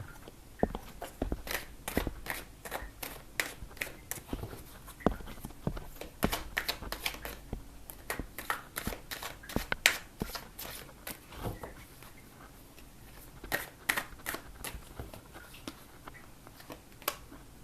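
Tarot cards being shuffled and drawn: a long run of quick, crisp card snaps and riffles in irregular bursts, fairly close and steady throughout, with no voices.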